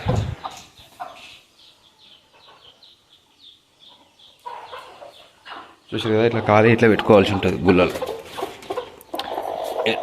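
Country-breed chickens in Bhimavaram cluck and squawk nearby, getting louder and busier in the second half while someone talks over them.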